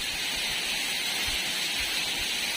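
Water flows between rocks at the mouth of a waterfall in a constant, dense rushing hiss that stays steady and fairly loud throughout, with no voices.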